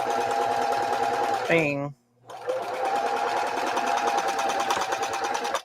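A sewing machine stitches a placemat pouch with a steady, close, rapid whirring hum. It halts abruptly for a moment, then starts up again and runs on, while a person talks over it.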